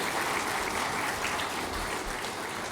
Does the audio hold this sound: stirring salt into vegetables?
no